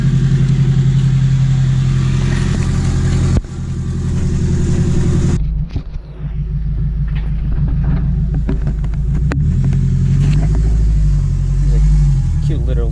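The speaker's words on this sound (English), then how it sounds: "Let it warm up here for a bit and we'll take it for a test drive." A boosted Acura TSX engine idles and warms up close by, a steady low harmonic drone with a brief dip and shift partway, then settling back into an even, rumbling idle; some voice is mixed in.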